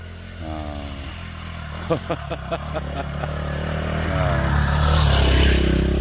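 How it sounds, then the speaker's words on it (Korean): A mountain dirt motorcycle climbs a forest trail, its engine revving in short bursts with clattering and then growing louder as it comes closer, while people talk nearby. "산악 오토바이가 여기를 올라오네요."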